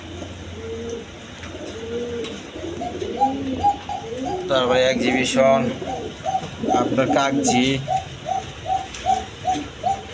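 Assorted pigeon breeds, Danish, Beauty and Mundian among them, cooing at a pigeon market, with repeated soft throaty coos and chirps close by while someone talks over them.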